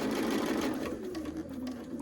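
A sewing machine runs steadily, stitching a straight fabric seam for a quilt, with a loud, close, continuous motor whir and needle chatter that eases slightly toward the end.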